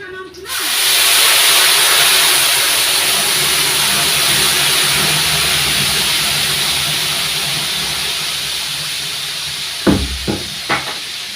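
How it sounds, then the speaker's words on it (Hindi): Tomato juice poured into a small hot kadhai while cooking a tomato and carrot preparation, setting off a sudden loud hissing sizzle that holds steady for many seconds, then fades a little as a few soft knocks come near the end. "अब हम इसमें ना टमाटर का जो लिक्विड है उसको डाल देंगे।"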